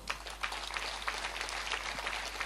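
Audience applause at a civic gathering, a steady wash of many hands clapping at moderate distance, dense and continuous for a couple of seconds with no voices above it.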